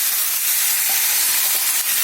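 Vegetables with peas and eggplant frying in a wok, a steady broad hiss and sizzle that stays loud and even throughout, with no talking.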